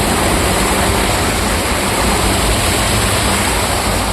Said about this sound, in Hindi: अब यहाँ से पानी वहाँ गिर रहा है बिल्कुल झरने की तरह